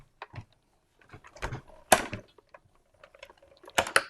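A die-cutting machine cranks card stock and taped dies through its plates, giving a run of dry clicks, rattles and sharp plastic clacks in uneven bursts with short pauses between them.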